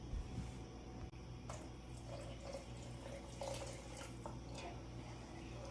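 Water poured from a cup into a pot of mushroom pozole with hominy, a soft continuous trickling splash heard close up and faint, with no talking.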